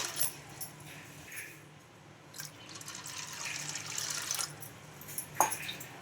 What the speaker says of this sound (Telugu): ఇంకా మంచి వాటర్ అయితే వేసుకోవాలి ఇందులోకి